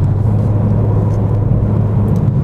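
A BMW M4 Competition (G82) accelerates in third gear, heard from inside as a loud, steady low engine rumble and whir with no voices.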